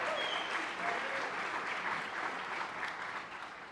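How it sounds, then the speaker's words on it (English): Sustained crowd applause for the Reading High School Castiliers Jazz Band at the Berks 275 kickoff event at the Miller Center in Berks County. The dense clapping holds steady throughout, then eases slightly at the end. "let's give them applause"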